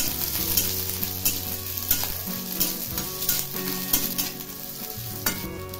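Hot, spicy green chillies roast in a pan, crackling and sizzling continuously as they are stirred, with scraping taps from the stirring and no voices.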